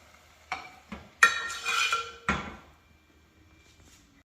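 Batter for azalea rice cakes, made from glutinous rice flour, stirred in a bowl with a few sharp utensil knocks and scrapes, then a short scraping stretch, close and alone.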